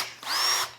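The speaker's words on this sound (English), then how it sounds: "And that's where we'll drill through." A power drill whirs briefly, spinning up and holding a steady high whine for about half a second while drilling through an overlay door panel on a Fhiaba refrigerator, then winding down. The sound is close and clear.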